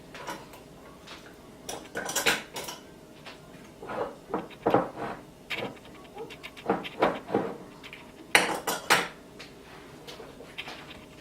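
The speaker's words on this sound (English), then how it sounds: "Got a little more turmeric to add here, just shredding it." Fresh turmeric root is shredded on a grater in irregular bursts of short scraping strokes, close and fairly soft, separated by brief pauses.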